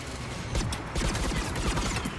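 Rapid automatic gunfire from the video game Mass Effect 3 crackles in dense overlapping bursts, loud and continuous across the short stretch, with a brief dip just before the heaviest volley.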